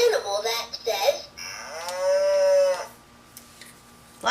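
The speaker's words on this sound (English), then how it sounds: "Yes, the cow says." A recorded cow moo from a LeapFrog Leap Builders farm toy rings out once, long and clear, after some brief jingling toy sounds, then fades into quiet.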